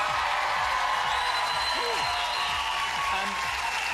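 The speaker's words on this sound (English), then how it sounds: "big cheer for our finalists" A television talent show studio audience, at the 2005 Xtra Factor semi-final, cheers and applauds its finalists in a loud, dense burst, with a voice speaking over the crowd.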